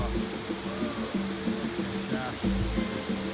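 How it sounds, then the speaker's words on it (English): Steady roaring rush of falling water at the bottom of a mighty waterfall in the Moroccan mountains fills the clip, a dense continuous wash with a low rumble and no pauses. "This is another angle at the bottom of the waterfall."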